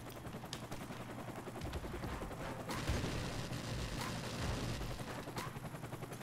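Rapid, continuous gunfire from a shooter video game rattles without pause, dense mechanical bursts at steady moderate loudness.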